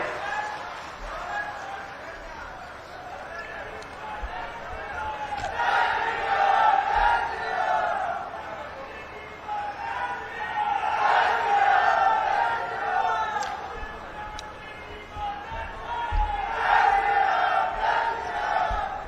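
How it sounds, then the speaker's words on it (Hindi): A large rally crowd greeting a state chief minister shouts slogans in unison in repeated surging waves, loud and massed, with a leader's amplified voice calling out between the chants. "एक बार माननीय मुख्यमंत्री महोदय के स्वागत में जोरदार नारे लगाएंगे"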